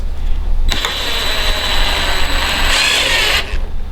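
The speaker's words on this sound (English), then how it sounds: "grab yourself an electric screwdriver" An electric screwdriver spins a hook through an Allen key, giving a loud, steady whirring motor run of about three seconds that starts and stops abruptly, close up.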